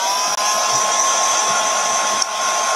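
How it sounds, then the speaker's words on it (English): A hair dryer blows steadily on a thick lump of paint, a loud continuous whooshing roar with a thin high whine, close to the microphone and alone, with two brief dips in the airflow. "Let's just even that out and give this a wee bit of a dry."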